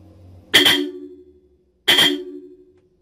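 Hella and Bosch car horns sound in two loud, short blasts about a second and a half apart, each a bright brassy honk that cuts off cleanly, with quiet between.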